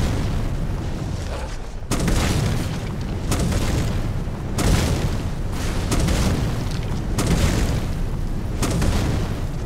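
Spell blasts in the fantasy game Skyrim: heavy booming explosions repeat every couple of seconds, each a loud rumbling burst over continuous noisy background.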